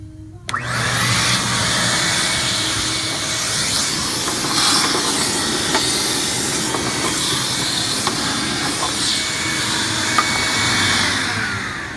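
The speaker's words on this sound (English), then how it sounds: "And then from there, following up with your rigid vacuum." A shop vacuum cleaning a Datsun 620 engine bay roars steadily and loudly from start to finish, a constant whooshing hiss with a low motor drone and occasional rattles.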